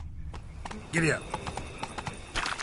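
Horse hooves clip-clop in The Witcher 3 as a rider urges the mount on through a wooded trail, a steady run of near, sharp strikes with a voice calling briefly over them midway.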